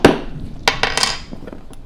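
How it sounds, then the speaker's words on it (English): A small hammer drives upholstery staples into a wooden chair frame, giving several sharp, close metallic-wooden taps in an irregular rhythm with short gaps between blows. "you hit it with a hammer, with a small hammer"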